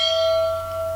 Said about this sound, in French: en activant aussi la cloche de notification